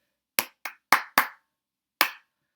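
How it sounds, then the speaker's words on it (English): Hands clap a short rhythm, five crisp claps, four grouped quickly and then one after a pause, close and clear with no talking. "if I clap this second line, it would be like this."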